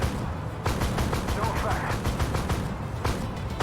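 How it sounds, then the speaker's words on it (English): A 25 mm Bushmaster autocannon on an M2A3 Bradley fires in the Armored Warfare game, a series of rapid booming shots in quick bursts with a voice talking over them. "25 millimeter Bushmaster cannon"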